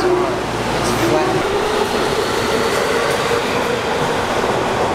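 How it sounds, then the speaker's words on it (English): A packed subway train rumbles at a station platform with a steady, loud roar of cars and wheels and faint squeals, while crowd noise fills the background. "Mikey, the train's so freaking packed that we didn't even try to get on."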